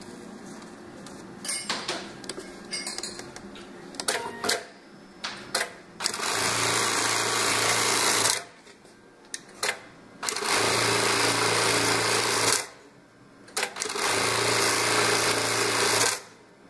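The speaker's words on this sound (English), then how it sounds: "here we're sewing four layers of webbing" A CHNKI CLK1900D sewing machine stitching through four layers of webbing, running in loud sustained bursts of rapid mechanical whirring separated by brief pauses and clicks.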